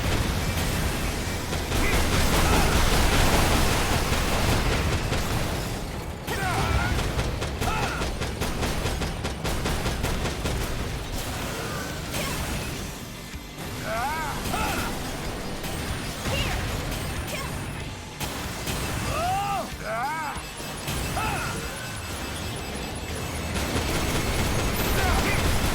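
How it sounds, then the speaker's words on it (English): Cannon fire and explosions boom through a mech battle in the video game Daemon X Machina, heavy blasts and crashes layered over a constant din, with radio voices speaking over the action. "it looks like the cannons are targeting them as well"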